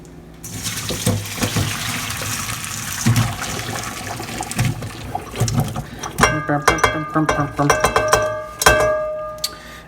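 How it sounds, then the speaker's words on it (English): Cut butternut squash lands in a strainer under water, with a running splash that gives way to a burst of clattering, knocking thuds of chunks and the metal strainer near the end, while a person talks over it. "put the butternut squash, or squash as our grandmas like to say, right into the strainer"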